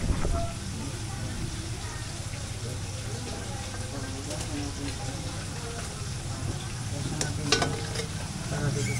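Food sizzling over a grill at an outdoor birthday cookout, a continuous crackling hiss running throughout, with clinks and stirring noises and people talking in the background.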